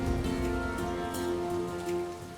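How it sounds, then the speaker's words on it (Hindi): Heavy rain pours steadily on surfaces in a dramatic mythological scene, a dense continuous hiss under a sustained musical score, with no talk. "इस वर्षा में आगे बढ़ना,"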